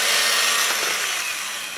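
Cake batter is whisked by hand in a bowl, giving a quick, steady scratchy swishing that stays close and fairly loud and then eases slightly, with no speech.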